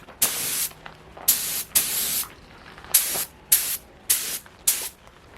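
Spray gun applying a second, wetter coat of paint to a car subframe, seven sharp hissing bursts of about half a second each, evenly spaced with short pauses between, loud and close with no talking.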